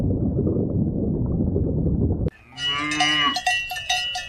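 A cow lets out a long, bending moo close by, with cowbells clanking around it, after a couple of seconds of steady broadband noise.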